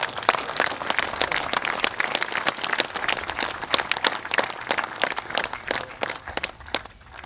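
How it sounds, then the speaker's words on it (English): Audience applause at a Doctor of Laws graduation ceremony in East Arnhem Land, a lively, uneven patter of many hands with sharper individual claps popping out, continuing steadily before growing sparser near the end. "Give me my clap."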